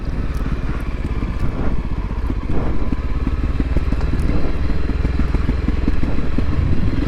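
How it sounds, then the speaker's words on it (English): A Voge 300 Rally motorcycle fitted with a 15-tooth front sprocket rolls along under engine braking, a loud, constant low engine drone with rattly clatter and rushing wind, no speech over it. "how good's the engine braking?"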